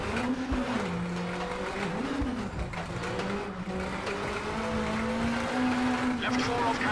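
Rally car engine in WRC 8 on a bumpy Wales stage, a steady droning note rising and dipping as the car is thrown around, with a voice talking over it throughout.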